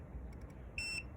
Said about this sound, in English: once you get that long beep there, that means that's the final measurement